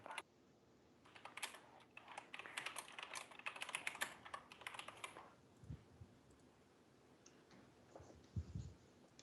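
Bursts of computer keyboard typing, busy clicking keys for several seconds before tapering off into a few scattered thumps; close and clear, with no talk.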